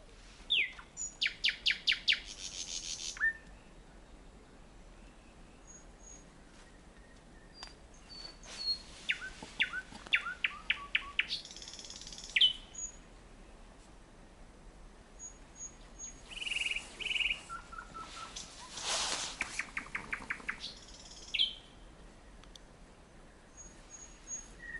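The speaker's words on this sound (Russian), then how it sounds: "Красиво поют птички, да? И вот так всю ночь." Birds sing at night in the backwoods in scattered bursts of rapid chirps and trills against a quiet background, with faint insect noise and long pauses between phrases.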